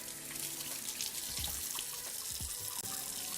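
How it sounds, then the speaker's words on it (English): A sink tap runs steadily while hands are washed, a close continuous water hiss with small splashes and no talking. "Let me just wash my hands."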